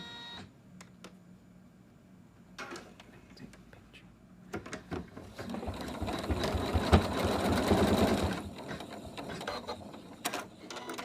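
Embroidery machine stitching out an in-the-hoop design for a monster toy; faint clicks and ticks give way to a steady, louder rapid mechanical stitching rattle through the middle, then a few sharp clicks as it stops.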